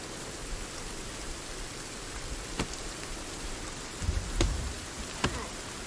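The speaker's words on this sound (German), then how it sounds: "Hey, es regnet." Steady rain in the video game Sons of the Forest, hissing evenly, with a few louder drips and splats landing close by now and then.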